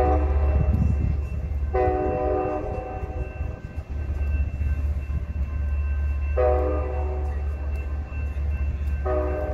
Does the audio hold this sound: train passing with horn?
yes